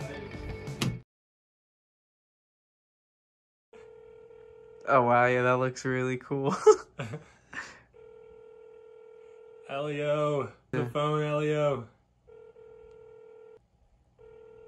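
A telephone sounds steady electronic tones in a few spaced bursts, clearly audible between and under stretches of close conversational talk.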